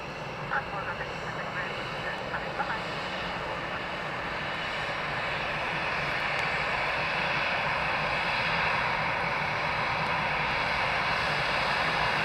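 An airliner's engines roar steadily at Dublin Airport, a broad sustained drone that swells louder over about twelve seconds as the aircraft passes close, with brief clicks and a voice early on.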